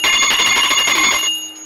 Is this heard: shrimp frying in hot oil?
no